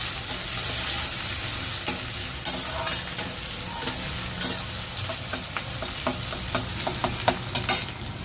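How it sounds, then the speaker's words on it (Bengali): Onion frying in hot oil, a steady bright sizzle punctuated by repeated scraping clicks as it is stirred in the pan, close and continuous. "পেঁয়াজটাকে দিয়ে দেওয়া হলো তেলের মধ্যে, এটাকে হালকা করে"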